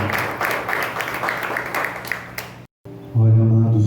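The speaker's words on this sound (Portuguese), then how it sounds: "Vamos aplaudir o Senhor." Church congregation clapping together in steady, dense applause, fairly close and loud, then breaking off abruptly into a brief silence before a sustained tone begins.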